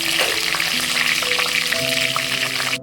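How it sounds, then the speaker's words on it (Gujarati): Curry leaves hitting hot oil with cinnamon and cardamom for a Gujarati potato curry, a loud, dense crackling sizzle that stays steady throughout before cutting off abruptly at the end. "હવે આપણે નાખશું એમાં લીમડો।"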